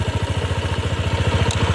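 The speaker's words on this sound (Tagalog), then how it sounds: "yung tunog ng makina, malinis, matahimik lang naman siya." A 2025 Honda Click 160 scooter idles up close with the stand raised, a steady, even low putter with a fast regular pulse and light mechanical clatter, no talk over it.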